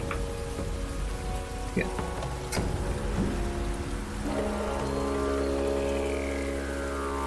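Recorded thunderstorm sounds playing back: steady rain hiss and patter with low rumbling thunder rolling in and swelling later, continuous and fairly loud, with a brief spoken word near the start.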